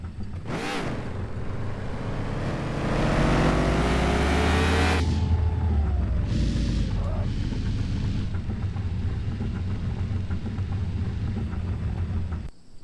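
A car driven and parked in Car For Sale Simulator 2023, its engine revving up loudly with a rising drone, then easing off to a steady low idle hum that continues until it cuts out.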